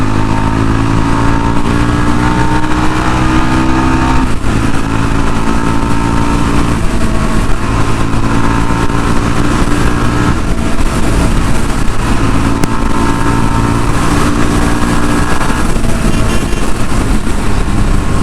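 A 2022 Yezdi Roadster motorcycle accelerates, its engine a loud, unbroken drone heard up close, mixed with rushing wind noise throughout.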